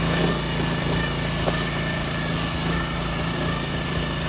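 Small engine of a rice transplanter planting paddy in a flooded field, running at a steady drone with a constant buzzing hum and no pauses.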